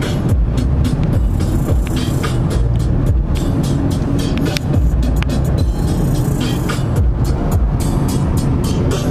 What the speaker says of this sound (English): I'm finna do all the driving as always.